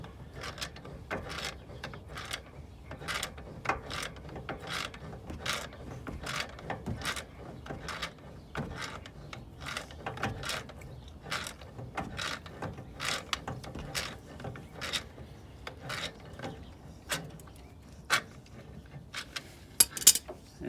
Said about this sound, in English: Grab your pliers. And just start working this nut,